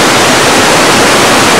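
Stream water rushes over a spillway in a loud, continuous, dense roar, close by and steady, with no other sounds.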